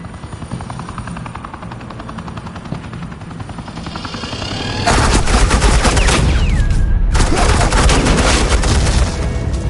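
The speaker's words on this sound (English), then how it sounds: "suppressing fire." Sustained suppressing gunfire in a Batman Telltale game, a dense roar of automatic weapons with a helicopter-like drone underneath, building louder and continuous, briefly cutting out before resuming.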